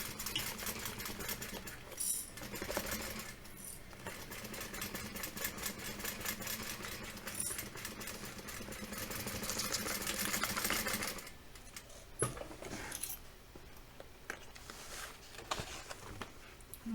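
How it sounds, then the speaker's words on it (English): A sewing machine runs steadily stitching a half-inch seam on a vinyl tote bag, a close, continuous motor whir with a rapid needle chatter, then it stops and a few handling clicks and rustles follow. "now that side is sewn, and we're going to push this side in"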